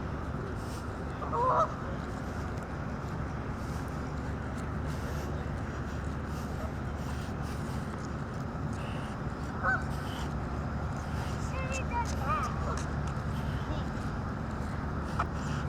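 Geese honk a few times in Patriot Park in Pigeon Forge, Tennessee, with brief calls at a moderate distance over steady outdoor background noise while a person talks nearby.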